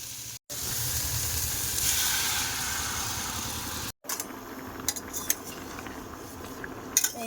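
Lata fish frying in a pan gives a steady, close sizzling hiss for a few seconds. After a short break comes quieter frying with scattered clinks of utensils against the pan.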